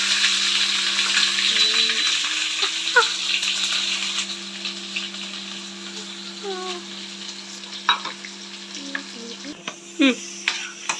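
Masala roasting in hot oil hisses in a constant close sizzle, with scattered clinks and scrapes of stirring and a faint steady hum underneath.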